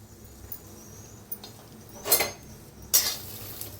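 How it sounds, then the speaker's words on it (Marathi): Green chillies and garlic roast in a pan, with a quiet background sizzle broken by two louder bursts of spatula stirring and scraping against the metal. "आणि लसूण बी भाजून घेऊया।"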